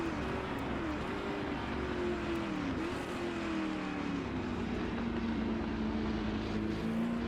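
A Ford GT40 in the Assetto Corsa racing game screams along at about 175 mph toward the first chicane at Le Mans, its engine a loud, steady drone that dips in pitch now and then.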